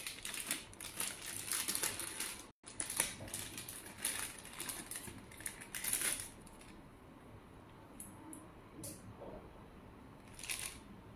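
Crinkling and rustling of a plastic bag as a red dot scope's rubber cover is unwrapped, a run of close, crisp crackles with brief pauses, no talking.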